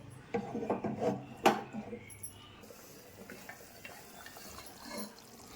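A spoon stirs fish curry made with coconut milk in a pan, making soft wet scraping and rubbing strokes in a short cluster, then fading to a faint, quiet simmer.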